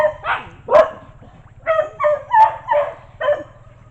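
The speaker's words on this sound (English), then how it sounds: "So all the dogs are raising a fuss, running up the road there." Several dogs at a rural property barking at a passerby on the road, a run of about seven sharp barks in two bursts, fairly close over a low steady hum.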